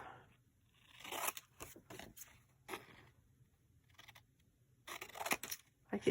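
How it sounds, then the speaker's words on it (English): Close scissors snip through old book pages in scattered bursts with quiet pauses between, a few crunchy cuts grouped near the start and end. "Just cut this off."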